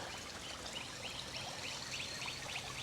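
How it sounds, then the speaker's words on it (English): Birds call outdoors by a backyard pool at a Florida house against a steady wash of background noise, with short chirping and quacking notes repeating through the quiet ambience. "I love hearing the birds out here."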